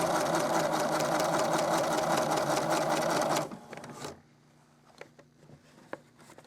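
A sewing machine stitching a faux fur applique runs in a loud, rapid, steady whir for about three seconds, then stops, leaving quiet clicks and light handling noises.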